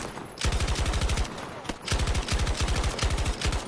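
Bursts of rapid automatic fire from the DFR Strife light machine gun in Battlefield 2042, two long strings of evenly spaced shots separated by a short pause, loud and close with no talking.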